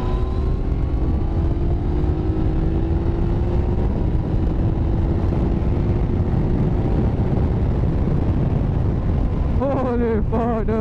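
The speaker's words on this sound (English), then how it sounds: "I really love how the bike pulls sometimes." A Yamaha MT-09 motorcycle engine drones steadily at speed with loud wind rush and a slowly rising pitch, followed near the end by a short burst of quick revs.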